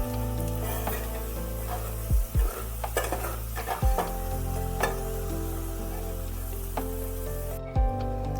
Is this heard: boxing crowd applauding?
no